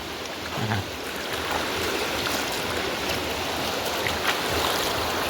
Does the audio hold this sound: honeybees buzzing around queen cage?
no